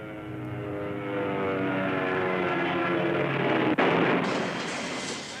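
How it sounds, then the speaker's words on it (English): The old radial engines of a DC-3 airliner throb overhead in a loud, steady, rumbling drone that fills the whole stretch, with a sharp bang near the end and no talk. "the old radial engines of the DC-3 throbbing overhead"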